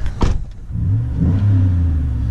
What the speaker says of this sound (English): Sounds like it has a resonator delete.